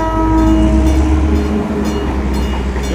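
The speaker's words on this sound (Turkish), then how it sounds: "Kars'a kadar gidiyor bu gördüğünüz Doğu Ekspresi." A Doğu Ekspresi passenger train on the Turkish line to Kars rolls past with a loud, continuous rumble. Sustained horn-like tones sound over it at first, and no voices are heard.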